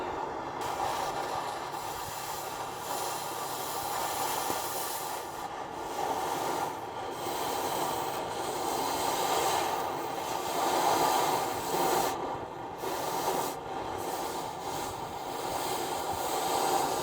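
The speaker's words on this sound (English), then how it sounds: "I think I'm just going to take the torch and just torch those bolts off from the outside here." A cutting torch burns bolts off an old junk tow truck, giving a continuous, close, roaring hiss with a slight tonal whine that swells and dips a little throughout.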